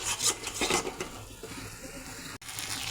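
Spice paste being stirred and fried in a pan for a potato and katla fish curry, with a steady scraping, rasping rub of the spoon against the pan, fairly close and continuous, with no talking.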